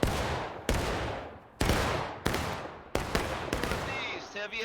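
Musket volleys in the Civil War game War of Rights, five or six loud, sharp broadband cracks at irregular intervals, each with a long decaying echo, overlapping into scattered firing near the end.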